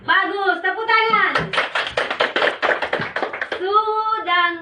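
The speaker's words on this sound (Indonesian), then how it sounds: "Bagus, tepuk tangan." Schoolchildren in a Year 5 classroom clap together in a short, quick rhythmic burst, sitting between stretches of close, loud talk from the teacher and pupils.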